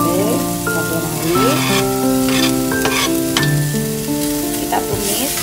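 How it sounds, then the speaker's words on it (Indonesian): Spices, white clams, ginger and onion sautéed in a pan give a loud, steady sizzle close by, broken by repeated scraping stirs with no one talking. "Kita tumis sampai halus."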